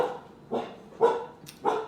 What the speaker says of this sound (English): Just a little dog barking.